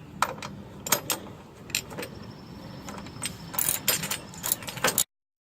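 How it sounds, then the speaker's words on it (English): A ratchet wrench with a 13 mm socket tightening running board bolts on a 2017 Toyota Tacoma TRD Access Cab, giving quick bursts of close metallic clicking and rattling separated by short pauses. "I'm going to tighten up all the bolts. These bottom ones here, this is a 13 millimeter."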